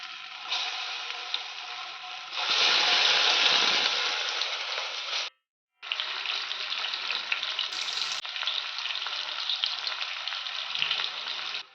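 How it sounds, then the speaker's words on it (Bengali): Potatoes coated in salt and turmeric fry in hot mustard oil in a kadai, giving a loud, steady sizzle that swells briefly, cuts out for a moment, then resumes evenly without talk. "এবার নুন হলুদ মাখিয়ে রাখা আলুগুলো তেলে ছেড়ে দেবো আস্তে আস্তে।"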